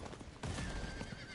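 A horse whinnies during a mounted ride in the video game Diablo IV, a sustained neigh that swells in partway through over galloping hoofbeats and gritty ambient noise.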